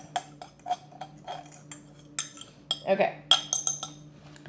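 A spoon clinks and scrapes against a dish while stirring shrimp chow mein with sesame seeds, cooked in a microwave; light, irregular clinks come close up, with a brief spoken word.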